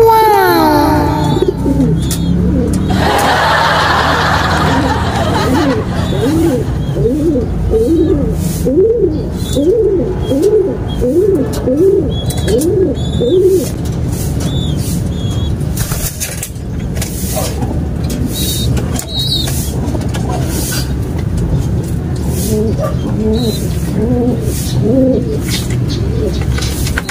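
Pigeons or doves coo in repeated rhythmic phrases close by, with other bird calls and background noise around them, the cooing strongest early on and then fading into intermittent calls.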